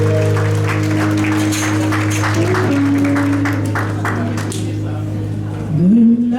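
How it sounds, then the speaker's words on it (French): An audience applauds Sonia at a Mother's Day show, dense clapping sustained throughout over a steady low musical drone, with a sung or held tone rising near the end. "je vous demande d'applaudir"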